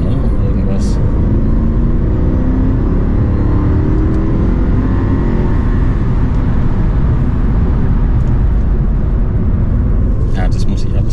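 A Mercedes C-Class W203 fitted with an M273 V8 drives along, its engine rumbling and rising through the revs as it shifts gears, heard from inside the car as a loud continuous drone with people talking over it.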